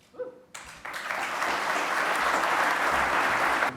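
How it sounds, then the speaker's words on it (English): Applause breaks out from a conference audience after an opening keynote address. A brief sound sits in near quiet, then many hands start clapping and swell into a loud, steady round that holds to the end. "I think you can sense from the round of applause that people found this fascinating"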